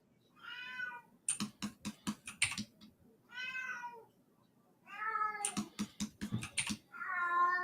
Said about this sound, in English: your cat's calling my cat now